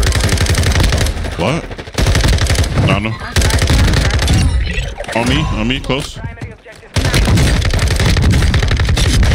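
Rapid automatic gunfire in a Warzone match, loud bursts of rattling shots with brief pauses, while players talk over the shooting.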